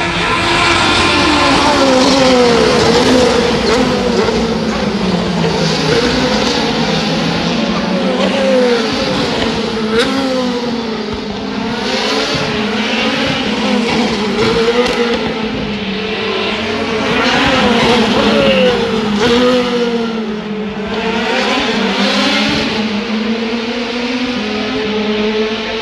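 A Porsche GT3 race car engine howls continuously on track, loud and steady with rising and falling pitch as it shifts and accelerates through corners, a live racing broadcast sound.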